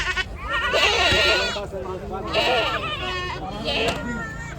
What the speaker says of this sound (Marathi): आणि गाभण शेळ्या आहेत खास दुधासाठी या शेळ्या वापरल्या जातात.